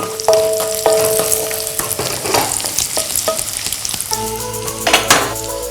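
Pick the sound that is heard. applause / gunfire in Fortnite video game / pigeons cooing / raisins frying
raisins frying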